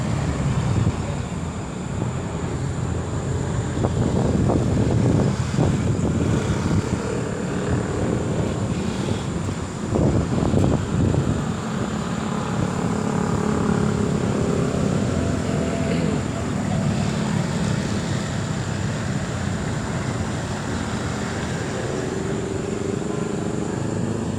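Strong wind roars steadily into the microphone for a long stretch, with gusty buffeting and a low rumble throughout.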